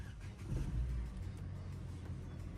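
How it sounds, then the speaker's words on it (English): A Vauxhall Corsa engine fitted with a ram air filter starts up close by with the bonnet open, a brief low surge on cranking and catching, then a steady idle rumble with no talk. "we're going to turn the car on now"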